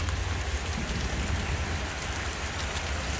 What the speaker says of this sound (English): Look, it's raining water now.